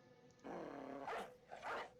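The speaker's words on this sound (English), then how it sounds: "Wouldn't be surprised if the dog jumps in here." A dog in the video game Battle Brothers gives two short, gruff barks after a low rumbling growl, close and moderately loud against quiet game background.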